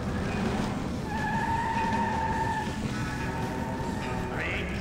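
An all-terrain vehicle driving in Grim Fandango, a steady loud engine drone with a whining tonal hum and a rising squeal near the end, continuous throughout with no talk.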